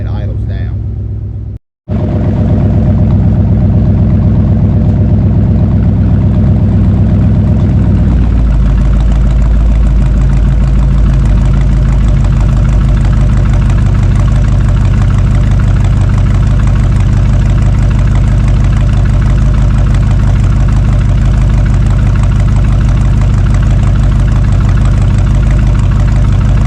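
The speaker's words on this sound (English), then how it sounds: "the exhaust clip of me putting it in gear so you can actually hear it when it idles down" A 1972 Dodge D100 pickup engine revs briefly, cuts out for a moment, then settles into a loud, deep, steady idle with a rumbling bolt-on exhaust that continues throughout.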